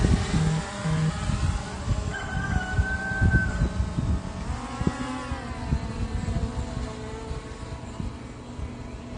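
Drone lifting off outdoors on a clear, windy morning, its motor whine rising in pitch as it climbs and holding steady, loud and close with a broad hiss of wind underneath.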